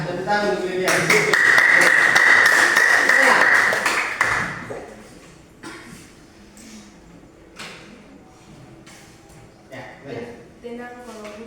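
A classroom of students claps for a classmate named Lydia: a dense burst of applause lasting about three seconds, with a steady ringing tone over it, followed by quieter room noise and a teacher speaking.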